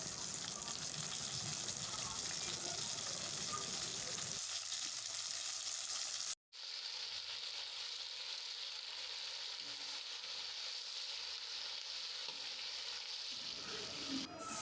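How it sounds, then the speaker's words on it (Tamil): A continuous loud sizzle of chopped tomatoes sautéing in a pan for chutney, with a brief cut to silence partway through before the sizzling resumes. "நல்லா வதக்கணும்"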